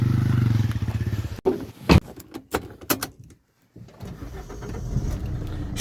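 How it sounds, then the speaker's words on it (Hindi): Keys jangle and a door thuds inside a parked car before its engine turns over and settles into a steady low idle rumble, close by, with no talking. "स्टार्ट हो गई गाइस कार"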